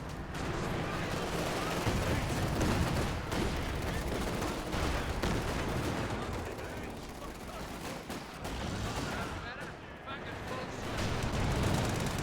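A dense artillery barrage in a strategy video game forms a continuous loud wash of booms and gunfire, with a commentator talking over it throughout.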